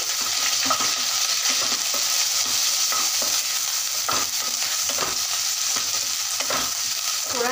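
Garlic, ginger and green chili stir-fried in a pan, a steady loud sizzle of hot oil with repeated scraping strokes of a spatula, close and continuous, no voices.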